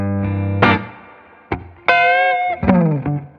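A D'Angelico Deluxe SS electric guitar with an ebony fingerboard plays a few ringing chords and single notes with a crisp, bright tone, each struck sharply and left to sustain briefly.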